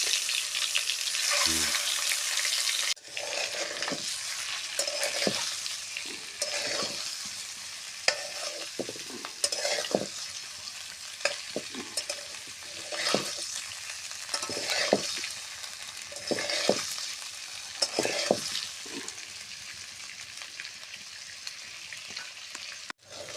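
Eggs and potatoes fry in hot oil in a wok, a steady sizzle running throughout while a utensil stirs and scrapes the pan in repeated, irregular strokes close by.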